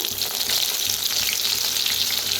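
Green chilies fry in hot oil in a kadhai, giving a steady, dense sizzle with a constant hiss and no pauses.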